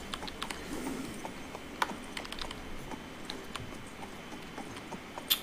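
Horse hooves clip-clopping at a slow town pace in the video game King's Bounty 2, a steady run of light, close knocks with a few sharper taps, and no talk over it.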